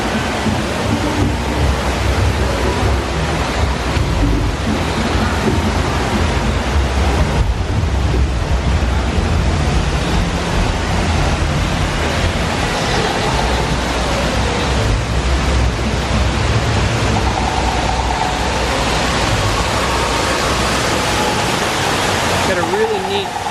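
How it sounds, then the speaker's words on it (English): Water spills down from the floating mountains in the Pandora – The World of Avatar area of Disney's Animal Kingdom, a steady close broadband rush that runs continuously throughout, with a faint murmur of people nearby. "Water coming off the floating mountains."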